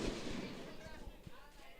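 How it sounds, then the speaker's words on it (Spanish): Firecrackers going off in the stands during a live football match, faint scattered pops and thuds buried in crowd noise and broadcast commentary. "Mucho petardo por ahí, Blas Antonio."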